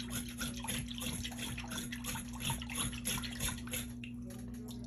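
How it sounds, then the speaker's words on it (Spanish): A trout being scaled while held underwater, giving a steady, close wash of sloshing and scraping water with small rhythmic splashes throughout. "cuando tienen los pescados sumergidos en agua, pues lo va escamando"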